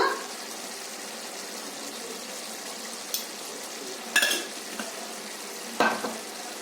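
Garam masala being stirred into a frying yellow chicken curry: a steady sizzle under a few sharp scrapes and clinks of a spoon against the pan, with no talk.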